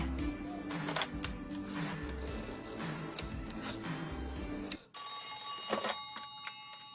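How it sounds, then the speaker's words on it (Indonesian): A house telephone rings in short repeated bursts, then a brighter electronic ring takes over near the end; no one speaks. "Telepon rumahnya."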